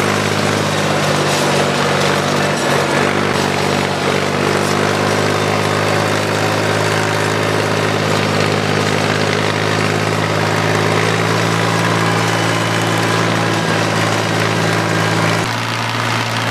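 A heavy tractor engine runs steadily at close range, a loud continuous low drone with a slight shift in pitch near the end.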